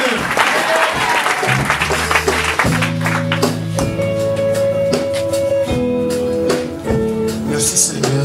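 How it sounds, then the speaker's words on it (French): A church congregation claps loudly and continuously during a worship service, the applause running throughout while an organ or keyboard plays sustained chords and voices call out underneath. "Non, acclamez Jésus, parce que Jésus l'aime beaucoup"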